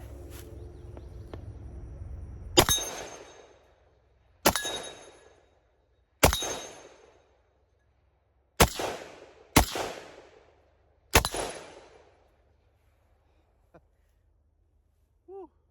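A Ruger Mini-14/30 tactical rifle fires six sharp, loud shots at irregular intervals, each a crack with a ringing decay, in an outdoor setting with faint sounds between shots.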